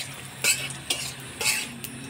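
Dried red chillies, cinnamon, cloves, cardamom, cumin and bay leaves are stirred in hot oil for tempering, with metal utensil scrapes landing about twice a second over a faint, steady sizzle.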